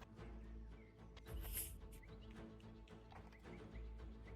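Horse hooves clip-clop steadily alongside a neigh or whinny, set amid a tabletop fantasy role-play session with continuous low background noise and faint bird calls.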